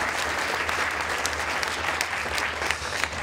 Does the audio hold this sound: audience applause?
yes